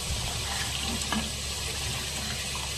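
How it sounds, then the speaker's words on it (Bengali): Water pours steadily into a pan of simmering oil-rich fish curry (koi fish) for about three seconds, a continuous splashing hiss over the low background of cooking. "এবার এখানে জল অ্যাড করতে হবে"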